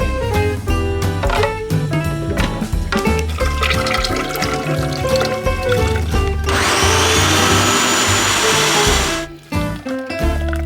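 A blender whirs through turkey juice, bacon fat, carrot, onion and garlic, a dense roar lasting about three seconds midway, set against steady background music.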